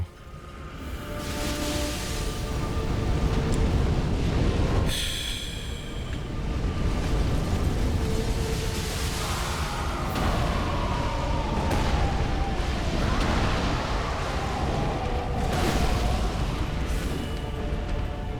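A boss's explosion attack in Dark Souls 3 sounds as loud, sustained rumbling booms, with a sharp burst near the start and continuous roaring effects and tonal swells throughout, no talk over it.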